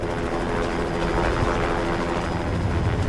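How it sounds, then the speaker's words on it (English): A helicopter's rotor thrum and engine roar fill the air, loud and continuous, with no voices over it. "There was a helicopter that we could hear that was getting closer and closer and closer"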